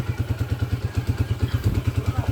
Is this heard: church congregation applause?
no